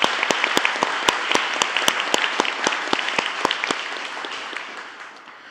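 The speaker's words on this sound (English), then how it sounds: "Let's give another round of applause to the panel and Dr. Ritten." An audience at the White House Recovery Month Summit applauds a panel with steady, dense clapping and sharp individual claps on top; the applause holds strong, then slowly fades toward the end.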